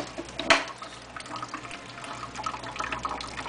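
Water drains from an unscrewed tap on a diesel fuel water separator, a faint, steady trickling into a jar after a brief sharp clink at the start.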